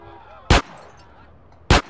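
Two sharp, loud gunshots from the video game GTA San Andreas, spaced a little over a second apart, with a low background hum of game ambience between them.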